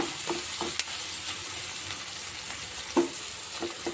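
Bitter gourd and potato curry with salt being stirred in a pan, a quiet sizzle under scattered scrapes and clinks of the spoon, one louder knock near the end; no voices.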